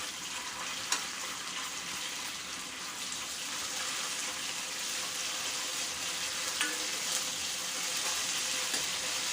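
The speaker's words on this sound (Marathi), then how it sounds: "अद्रक लसणाची पेस्ट आणि जिरा आपण तेलामध्ये छान असं परतून घेऊया" Ginger garlic paste and cumin seeds sautéing in hot oil for a Marathi cabbage and chana dal dish, a steady, moderate sizzle and frying hiss that runs unbroken, with a few faint stirring clicks.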